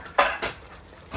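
A metal lid is handled on a pot of water being brought to the boil for biryani rice, giving two quick clanks close up followed by a softer clink at the end.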